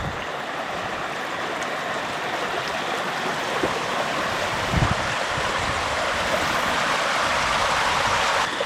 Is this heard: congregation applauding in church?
no